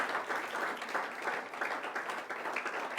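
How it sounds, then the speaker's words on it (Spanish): Congregation at a church service applauding for the Lord, a steady, dense wash of many hands clapping throughout, moderately loud and continuous with no voices standing out. "Démosle un fuerte aplauso al Señor."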